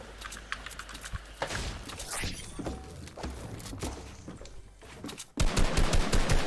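Fast bursts of SMG fire in an online shooter game, a rapid rattling that stays fairly faint through most of the stretch and then turns loud and sustained near the end.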